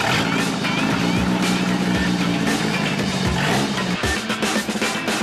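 An expensive doorless car's engine is started and revved, rough low rumbling with uneven bursts and a brief stall near the end, heard under a voice.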